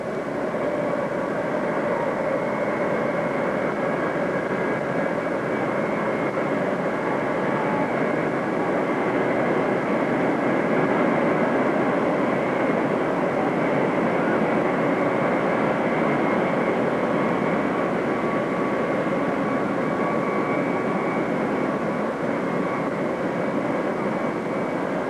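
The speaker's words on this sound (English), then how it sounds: "we'll probably have to stop talking because of the noise of these jets as it swings round" A Qantas jet airliner taxis and swings round, its engines giving a loud, steady roar with a whining tone that holds without a break for the whole stretch.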